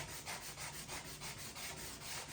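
A gummy rust-eraser stone is rubbed back and forth across a snowboard base in about ten quick, even strokes, a quiet, close scrubbing rasp with no talk.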